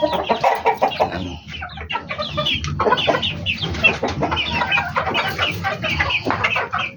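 Hens clucking in a chicken coop, a steady run of close, overlapping clucks and squawks with no talking.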